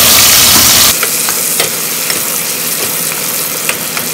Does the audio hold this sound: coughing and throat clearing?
no